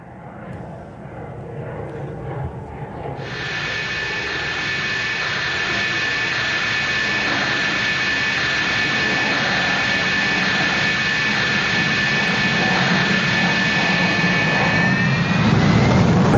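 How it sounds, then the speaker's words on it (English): A MiG-29 fighter jet takes off during Navy Day celebrations in Thiruvananthapuram, its loud jet roar building steadily with a sharp high whine joining in and holding throughout. "And there the MiG-29 has taken off."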